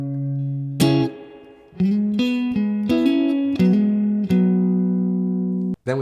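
Electric guitar plays a full bar of a song, a string of plucked double-stops and single notes with some ringing out longer, clean and close, stopping briefly near the end, with no speech.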